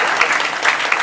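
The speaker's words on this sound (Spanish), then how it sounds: "Un aplauso para esta." A brief burst of dense applause from a lecture audience on the culture of death, clapping for a volunteer helper; close, loud and continuous for about a second.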